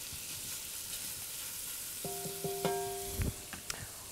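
Shallots and artichokes fry in a pan, a soft steady sizzle that later picks up a few sharp metallic clinks and taps from utensils against the cookware.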